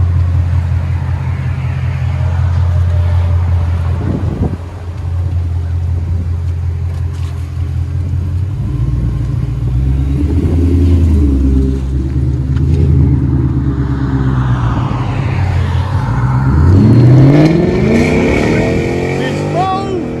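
A Ford Mustang GT with the 5.0L Coyote V8 and a loud aftermarket exhaust rumbles steadily up close, then rises through a sharp rev before settling back down.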